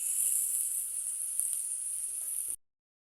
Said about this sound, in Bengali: আম্মু পেঁয়াজ রসুন ভাজা প্রায় হয়ে গেছে